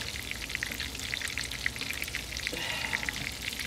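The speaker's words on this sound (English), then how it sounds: "I got them frying" Breadcrumb-coated chicken breast sizzles and crackles steadily in a hot pan, a dense bed of close popping and hissing with no voices.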